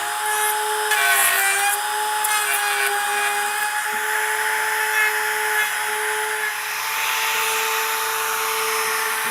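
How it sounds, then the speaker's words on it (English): Small handheld router cutting a half-inch-deep recess in wood for mounting a budget Irwin woodworking vise, a steady high-pitched motor whine with continuous cutting noise, loud and close throughout. "Now I've got my router set to 1/2 inch. That's how deep I want to go."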